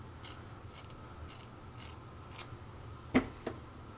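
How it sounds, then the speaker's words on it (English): Hair scissors trim bangs straight across, giving a few faint, crisp snips spaced over a few seconds against a quiet room hum. "I'm just going to cut them straight across."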